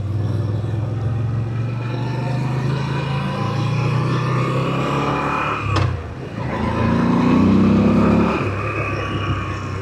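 A Royal Enfield Goan motorcycle accelerates, its engine rumbling steadily, then rising in a louder revving surge after a brief sharp knock midway, with wind noise over the ride.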